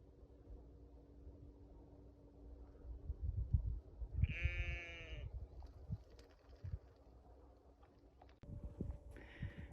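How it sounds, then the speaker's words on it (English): Sheep bleat with a tup on misty moorland, one clear wavering bleat in the middle and a shorter one near the end, set against low wind rumble and faint background noise. "there you can see the tup there with the new sheep"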